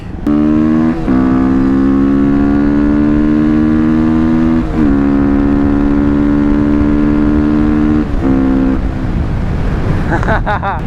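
Motorcycle engine pulling hard through its six gears, each rising whine broken by a brief dip at the shift, loud and continuous with wind noise.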